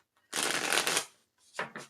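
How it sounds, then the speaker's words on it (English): Two close bursts of tarot card shuffling, a long riffle followed by a shorter one after a pause, crisp and near. "Give it a couple more shuffles."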